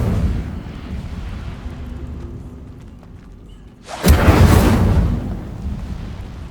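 An Incendio fire spell erupts in Hogwarts Legacy as a sudden loud whooshing burst of flame midway through, after a stretch of quieter ambient rumble, then roars on before slowly fading.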